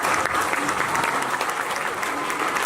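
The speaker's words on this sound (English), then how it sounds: "Please give my class a big round of applause." Sustained, steady applause from an audience at a temple annual day event, honoring a class of children; dense clapping fills the whole stretch with no break.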